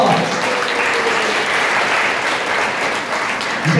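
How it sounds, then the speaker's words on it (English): Audience applause after a short speech session at an author club gathering, a dense, steady wash of many hands clapping at close range, loud and sustained throughout with no voices over it. "Let's give Mrs. Hamilton another round of applause."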